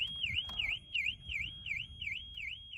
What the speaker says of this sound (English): the alarm would just keep going off as long as battery power was hooked up to the car